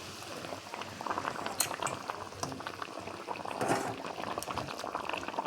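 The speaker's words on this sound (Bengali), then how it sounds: "বন্ধুরা কত সুন্দর ঝোলটা ফুটে গেছে।" Gravy with pabda fish and poppy seeds boils in a pan, a steady close bubbling and popping that carries on without a break.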